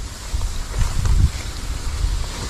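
Gusty wind roars and buffets the microphone outdoors, rising and falling in strength with no voices.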